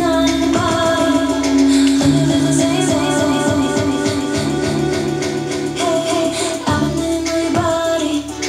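A music track run through the echo beat effect on a Pioneer DDJ-1000 DJ controller, with a steady loud beat and repeating echoed tails on the notes, playing without interruption and without talk.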